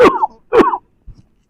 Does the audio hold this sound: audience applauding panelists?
no